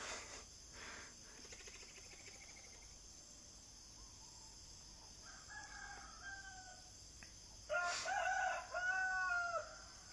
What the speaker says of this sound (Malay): ada dengan ayam berkokok